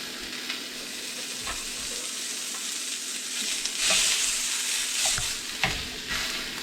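Partly frozen sausage sizzles in a hot pan for a marinara sauce while a utensil breaks it into small pieces, continuous crackling frying with scraping stirs and a few sharp taps, close and fairly loud.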